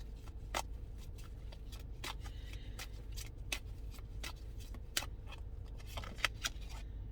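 Tarot cards are shuffled in quick, crisp riffling bursts, a series of sharp papery flicks at an irregular rhythm over a low, steady background hum.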